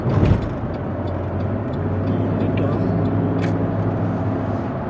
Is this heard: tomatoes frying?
no